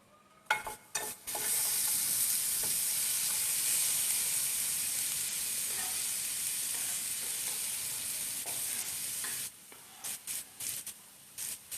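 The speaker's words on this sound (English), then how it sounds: "So I've got one onion here, which I'm going to be sauteing." Onion sautéing in a hot pan, a loud continuous sizzle that bursts in after a few clicks and fades to stirring taps near the end.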